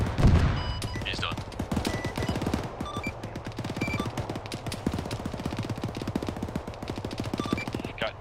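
Sustained automatic gunfire in the Arma 3 military shooter, dense rapid bursts of rifle and machine-gun fire, loud and close, with a heavy report at the start and no clear talk over it.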